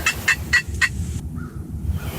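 Wild turkeys, a lone hen and wary jakes, give a quick series of about four sharp clucking calls, then a fainter call, over steady outdoor background noise.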